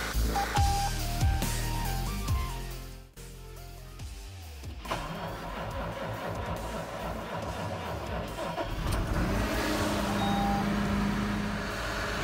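A John Deere 6210R tractor engine cranks and fires reluctantly on a cold start, beeps and a strained whir giving way to a rough, steady idle that settles and holds loud and close.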